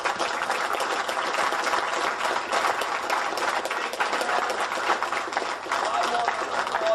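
Dense, steady audience applause at a martial arts university event, a continuous crowd clapping throughout without pause.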